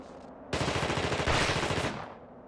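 Gunfire in The Thing retro video game: a sudden loud burst of rapid automatic shots lasting about a second and a half, then cutting off, heard alone.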